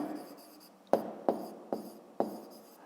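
Pen on paper writing an answer by hand for a fifth-grade maths exercise, four short scratchy strokes spaced about half a second apart after a soft opening rustle, close and quiet with no talk.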